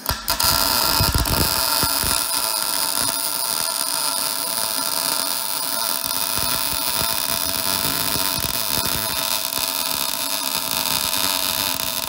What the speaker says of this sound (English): This is a MIG and a TIG welder, and it's my favorite MIG welder.